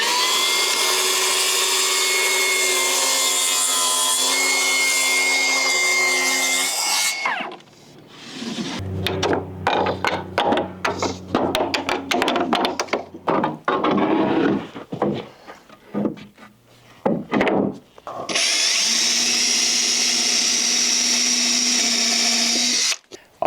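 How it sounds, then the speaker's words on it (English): A Milwaukee track saw rips through Merbau deck boards over a concrete slab: a loud, steady whine at first, then choppy bursts as the blade works through, and finally another sustained cutting run, close up with no talk. "We're going to be trying out Milwaukee's track saw to do this cut."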